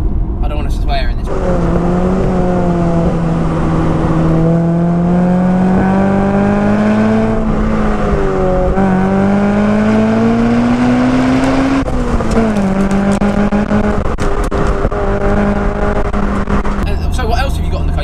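Honda Integra DC2 Type R engine revving steadily and climbing in pitch, loud and close with repeated rising pulls, under occasional talk.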